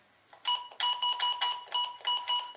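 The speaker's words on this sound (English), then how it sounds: "It does have this annoying horrid beep on it." Electronic beeps from a Midland Base Camp PMR446 handheld radio, a rapid series of about seven sharp, bright tones in quick irregular succession, close and clear with no talking.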